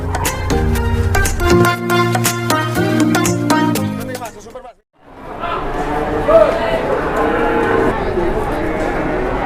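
Jumbo cattle being loaded moo loudly and repeatedly, first over a steady tonal backdrop, then amid a noisy crowd after a brief pause.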